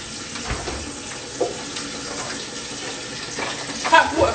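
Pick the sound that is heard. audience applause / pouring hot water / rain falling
pouring hot water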